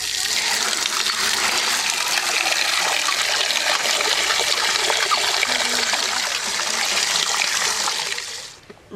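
Running water rinses a large cleaned boal river fish, a continuous close gushing splash that holds steady for several seconds and then cuts off.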